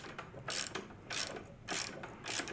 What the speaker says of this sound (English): the top of the jack sort of fits into the yoke bottom there, and then I can jack it up